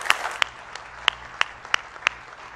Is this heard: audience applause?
yes